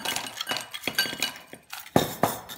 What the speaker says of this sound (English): We're going to add a little bit of ice to that.